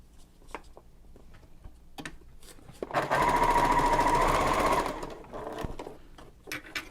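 A sewing machine runs steadily for about two seconds as it stitches a diagonal quilting line across a messenger bag panel, framed by faint handling clicks and taps before and after.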